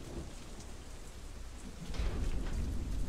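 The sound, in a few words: storm with rain and thunder in the video game Deadlight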